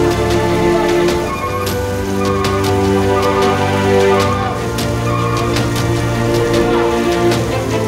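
Heavy rain during a bus trip between West Sumatra and Riau, a dense steady patter on the vehicle under a constant engine drone, loud and close throughout.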